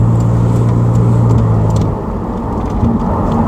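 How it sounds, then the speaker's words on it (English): An engine and drivetrain rumble heavily from inside a 1980s car as the gearbox shifts, the low tone dropping partway through before a steady drone carries on. "You can tell the gearbox oil's been changed because it has that lovely fluid sound to it."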